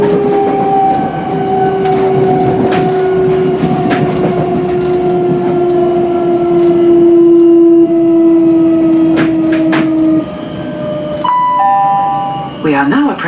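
A Great Northern Class 387 Electrostar electric train hums along the rails with sustained tonal whine, steady and loud, a recorded announcement voice speaking over it, ending with chime-like tones.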